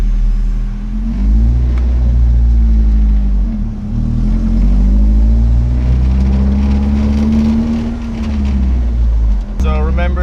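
Nissan 720 minitruck with an SR20 engine swap drives along, its engine droning loud and close with rising and falling revs as the truck accelerates and cruises.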